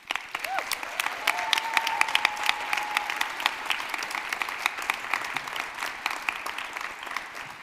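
Audience applause at a 2023 honors convocation at Emma Willard: a large crowd claps steadily and densely for several seconds, loud and sustained throughout.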